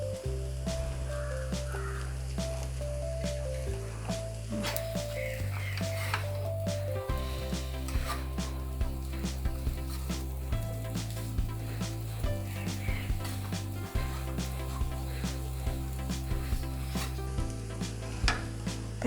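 Egg noodles tossed with oil in a hot pan, a soft continuous sizzle under repeated wet stirring and scraping strokes, with steady low hum beneath and no talking.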